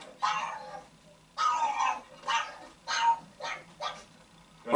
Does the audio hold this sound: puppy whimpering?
yes